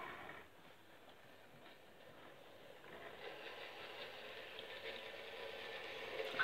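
A model railway locomotive rolls past on a home layout, giving a quiet, steady mechanical rumble and rattle that swells slightly toward the end, with no voices.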